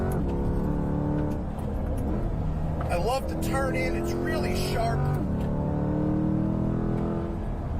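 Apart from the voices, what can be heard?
car engine sound while driving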